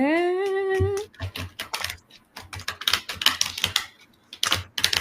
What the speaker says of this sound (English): we are shuffling cards